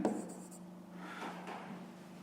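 Hand writing of numbers during a fifth-grade maths exercise: a soft, scratchy stroke sound that comes in short bursts, faint and close, with no talk.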